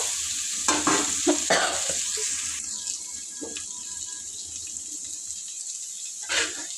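Pre-boiled chicken liver frying in a pan with ginger-garlic paste and spices, a constant close sizzle broken by several scraping stirs of a utensil against the pan.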